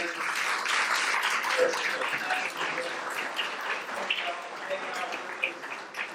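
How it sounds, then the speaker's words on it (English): An audience at a minority construction industry day event gives a round of applause, heard as steady, moderately faint clapping from a crowd in a room, sustained throughout with a voice talking beneath it. "How about a round of applause again?"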